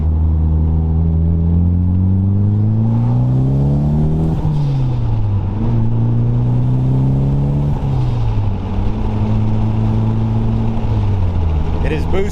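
Mitsubishi Evo 3 turbo car engine droning loud and close with pitch dropping as it shifts down from third to second, a brief airy blow-off burst near the end.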